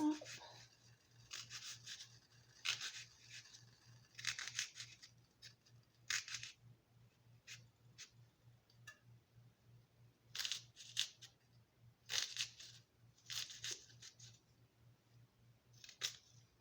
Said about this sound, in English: cut this bad boy up.